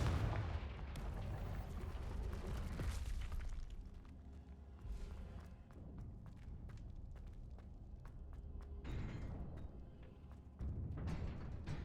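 A Confringo blasting spell in Hogwarts Legacy goes off with a heavy booming burst at the start, followed by rumbling game effects, footsteps and further blast-like hits, all faint and muffled.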